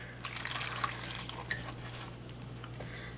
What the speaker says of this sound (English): I'm just going to pour some water in.